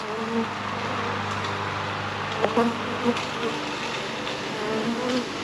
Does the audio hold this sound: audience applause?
no